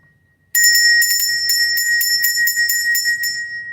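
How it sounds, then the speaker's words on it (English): A bell is rung repeatedly in a quick, steady series of bright metallic strikes with a ringing tone, close and loud, starting after a short quiet moment and carrying on to the end. "And when I ring the bell and you flee,"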